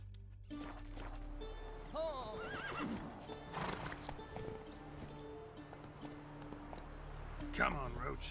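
In The Witcher 3, the horse Roach gallops with rapid hoofbeats and gives a couple of rising, wavering whinnies, close by and moderately loud, with voices talking alongside.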